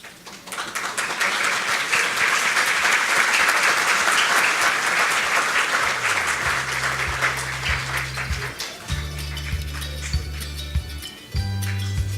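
Hearty audience applause at an education ministry agreement signing for a mobile digital classroom, rising quickly and holding steady before thinning out as low musical tones begin underneath.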